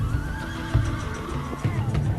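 A war horse neighs in a loud, quavering whinny over a low rumbling backdrop, with a few faint hoof thuds mixed in.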